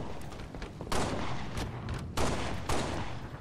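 Pistol shots in a Halo Reach infection match ring out in loud, sharp bursts, several close volleys over continuous battle noise with no talking.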